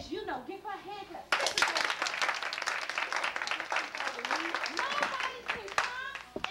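An audience bursts into hand clapping after a speaker's voice, the dense clapping running several seconds while the speaker keeps talking over it.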